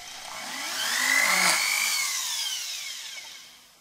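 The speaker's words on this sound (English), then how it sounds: "Then I can drill a hole in both ends." A power drill bores holes into both ends of a small metal jewellery chain link, the steady whirring motor rising in intensity toward the middle and fading away again, with no one speaking.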